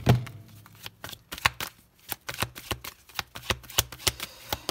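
Oracle cards shuffled at close range during a tarot-style reading, a rapid, uneven run of crisp riffling slaps and flicks that keeps going for several seconds with no talk.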